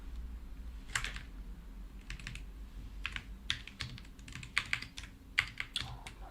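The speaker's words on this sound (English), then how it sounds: "My typing." Quick, uneven bursts of keystrokes on a computer keyboard, clicking in irregular clusters with short pauses, fairly quiet and close, with no talking.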